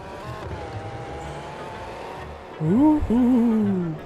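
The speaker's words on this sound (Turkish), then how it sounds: "Araba çok iyi ya. Yol serbest. Basıyoruz." A car drives in the Roblox game Pacifico 2, a steady engine hum that kicks up into a louder, rising rev with gear-shift sweeps near the end, alone without talk.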